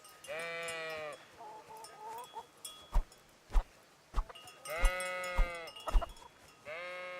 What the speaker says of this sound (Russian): Ой, а барашков.